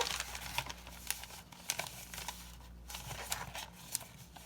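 Freezer paper crinkles and rustles as it is pressed in to line a soap mold, producing faint, intermittent crackles and crumples in a quiet room.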